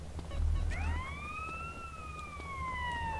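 A police car siren in the video game GTA San Andreas rises and wails clearly over a low engine rumble, with a second siren tone layered over it, sounding fairly close.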